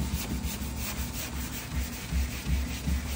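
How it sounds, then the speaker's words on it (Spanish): Hand sanding of primer with a sanding block and 320-grit sandpaper: steady, rhythmic scrubbing strokes, close and fairly loud, with no voices. "Y el bloque que estoy usando, con una lija 320, luego 600 para afinar."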